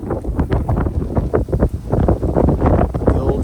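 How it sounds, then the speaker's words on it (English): Strong wind buffeting a microphone outdoors at an old Colorado ghost town beside a brick building, loud gusty rumbles rising and falling continuously. "it's getting a little windy out here"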